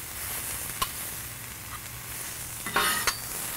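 Brown onions frying in a pan for Korean street burgers, a steady close sizzle with a few sharp scraping stirs, the loudest burst near the end.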